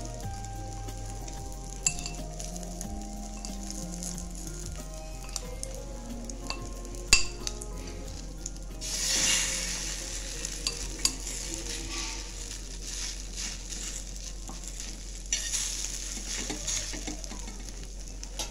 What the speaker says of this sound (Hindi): आता हे पण ब्रेड आपण तळून घेऊया